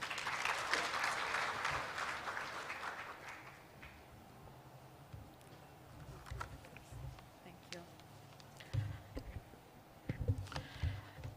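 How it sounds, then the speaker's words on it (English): Audience applause welcoming a radio host onto the stage at a state-level financial literacy conference in Mizoram, loudest in the first few seconds and then thinning to scattered claps with some voices and movement in the room. "Please give her a big round of applause."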